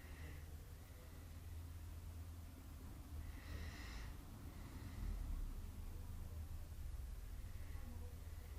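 Faint, soft Ujjayi yoga breathing, a slow hissing breath in a quiet room, with one clearer breath standing out against low background hiss.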